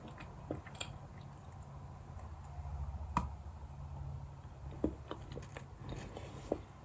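Someone bites into the middle of a chocolate mint treat and chews it close to the mic, with a few soft crunches and wet chewing sounds at irregular intervals over a quiet background.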